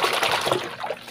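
Running water rinses a dish during a washing-up routine using powdered 123 soap with baking soda and lemon, a close, continuous splashing trickle that fades slightly toward the end.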